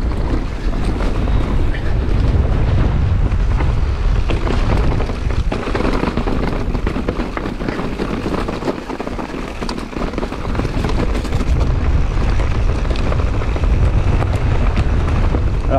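Strong wind roars and buffets the microphone continuously, a loud, dense rushing that barely lets up, with a low rumble throughout.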